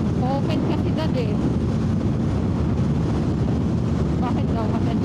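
Strong desert wind during a sandstorm in the Sahara in Morocco roars steadily against a moving vehicle, a dense, loud, unbroken rush with heavy low buffeting, and faint voices now and then beneath it.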